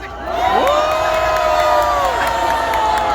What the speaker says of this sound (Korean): 윤석열 대통령께 한 번 더 응원하는 함성 한번 부탁드립니다